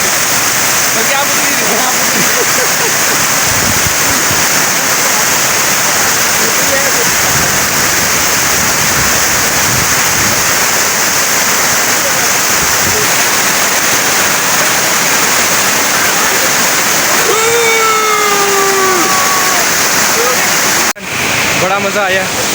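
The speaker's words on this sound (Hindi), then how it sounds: "ये पीछे है आबशार है" A Kashmir mountain waterfall of icy snowmelt water roars loud and constant at close range, a broad unbroken rush, with a brief voice-like tone rising near the end.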